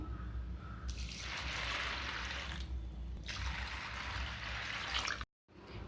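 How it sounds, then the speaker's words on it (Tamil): Water poured over rinsed lentils in a pot while preparing keerai adai batter, a steady broadband splashing and trickling stream lasting about five seconds, close and fairly loud, with no talking, ending abruptly. "இப்போ பருப்பு முழுசுற அளவுக்கு தண்ணியை ஊற்றணும்."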